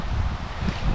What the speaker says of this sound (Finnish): Ei saatana, mikä tuulikin täällä on.